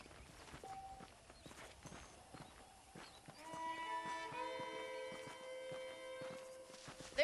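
Horse hooves clip-clop in a steady walking rhythm, soft and close, in the video game Red Dead Redemption, while a sustained musical tone swells in partway through.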